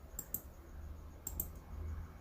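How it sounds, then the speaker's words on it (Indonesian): Computer keyboard and mouse clicks while working in PowerPoint, a few crisp, faint taps in two small clusters over quiet background hum. "Kita gabung ketiga bentuk bangunan ini dengan cara mengklik tombol CTRL pada keyboard dan mengklik ketiga jenis bangunan ini."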